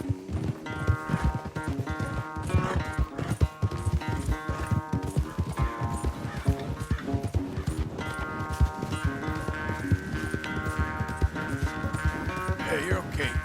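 Horses race at a gallop in the video game Red Dead Redemption 2, a rapid drumming of hooves with a swelling orchestral score behind it and voices speaking over the run.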